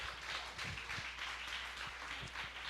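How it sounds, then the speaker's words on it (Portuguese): A church congregation claps in a soft, continuous patter of applause, faint and distant, with no voices over it. "Aplauda o Senhor Jesus"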